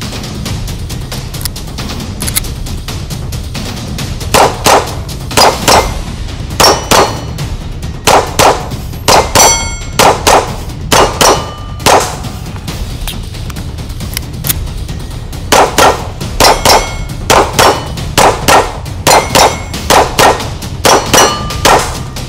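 Beretta 92X Performance pistol shots ringing off steel gongs, a long series of sharp metallic clangs in quick pairs and clusters with short pauses between strings, each hit bright and resonant over a steady outdoor background.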